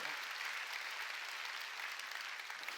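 Faint, continuous applause from a church congregation, an even wash of clapping that holds steady for a few seconds with no voice above it.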